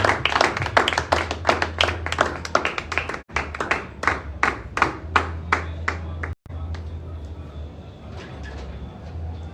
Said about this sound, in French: En attendant que ça vienne, on peut acclamer pour le Seigneur